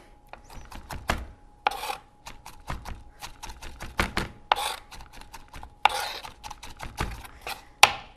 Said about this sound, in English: I'm actually going to chop these just a bit more.